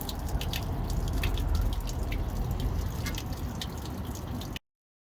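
Water drains from a Truma RV water heater on an Ultrastore camper, a steady splashing trickle with scattered drips, close and continuous until it cuts off abruptly near the end.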